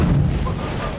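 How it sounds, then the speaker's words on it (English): A three-pound charge of C4 goes off at a bomb range with a heavy, booming thud whose deep low rumble fills the whole second and slowly fades, with no talking. "3 pounds of C4 is the most we can actually use at the bomb range."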